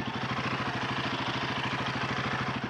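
Royal Enfield Himalayan 450 motorcycle idling close by, a steady, even thumping beat that holds throughout with no voices.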